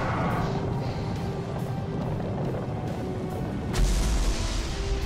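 Gunfire and explosions from the video game Destiny during a Crota's End raid challenge: a steady dense rumble of weapon fire with booms, swelling into a heavier burst near the end, no voices.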